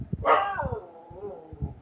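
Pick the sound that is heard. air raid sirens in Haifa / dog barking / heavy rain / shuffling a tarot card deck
dog barking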